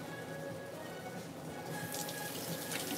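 Kitchen faucet runs steadily into a sink while corn on the cob is rinsed, a continuous close splashing stream that grows slightly louder and brighter toward the end, with no talking.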